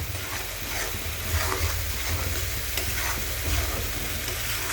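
Radish thokku sizzles and fries steadily in a pan while a spoon stirs it, scraping and stirring in a continuous close-up texture with no voices.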